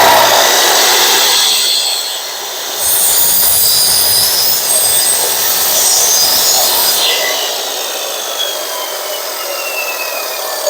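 A saw cuts steadily through a wooden board for a garage door jamb. The loud, continuous cutting noise dips briefly early on and then eases slightly toward the end.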